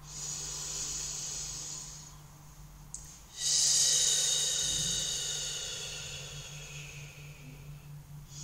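A person breathes out slowly through the teeth during a breathing exercise, making a long, close, hissing S sound. A short pause follows, then a second, louder hiss that tapers away.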